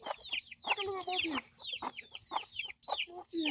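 Chickens cluck and chatter in a backyard coop, with repeated close, busy calls in uneven bursts; voices may mingle faintly in the mix.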